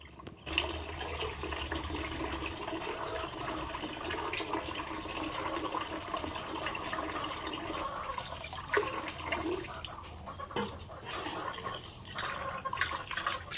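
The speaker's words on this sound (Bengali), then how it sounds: "মাছ ফাছগুলো এখন ধুয়ে নিচ্ছি।" Fish are washed by hand under running tap water in a kitchen: a steady gush of water pours throughout, with splashing and handling sounds growing busier toward the end and no talk.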